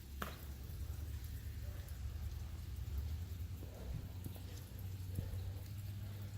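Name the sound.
rain falling outside a house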